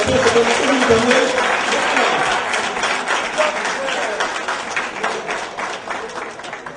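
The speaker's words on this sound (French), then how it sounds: "Je vous dis d'applaudir les docteurs," Audience clapping for doctors at a community honoring event, a steady patter of applause of moderate loudness with voices speaking over it throughout.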